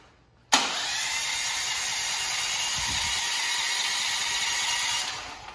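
A brand-new Westinghouse WGen9500D generator engine, run with its fuel supply still switched off, cranks loudly and close by for about five seconds in one steady burst, then cuts out without catching.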